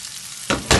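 Rice with seafood stirred in a hot pan, a soft sizzle that jumps into two loud scraping bursts of stirring near the end, with no voices.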